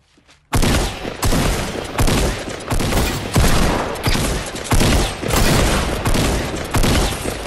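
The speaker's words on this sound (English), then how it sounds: "They missed every shot with the shotgun" Shotgun fire in the Fortnite video game: a loud, close series of heavy blasts, roughly one every half second to second, starting abruptly after a brief quiet moment and continuing steadily.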